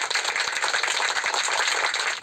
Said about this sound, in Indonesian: Ada suara tepuk tangan